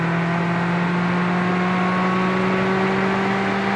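A loud, steady race car engine drone holds close and constant on the Las Vegas road course, a sustained high-revving whine with slowly rising pitch as the car accelerates.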